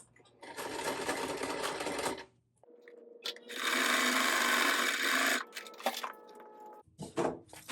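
Sewing machine stitching fabric in three bursts of rapid, even whirring, loud and close, separated by brief pauses with a few handling clicks.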